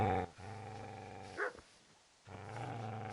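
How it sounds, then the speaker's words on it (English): A dog in the medieval video game Kingdom Come growls low and menacingly, then gives a short, sharp bark before a brief pause, after which the growling resumes, loud and close. "Get away, you mutt!"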